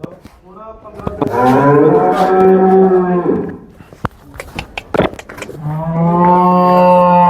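Two long, loud moos from Holstein Friesian dairy cows with a short gap between them filled by scattered knocks and faint voices; the lowing is close and strong.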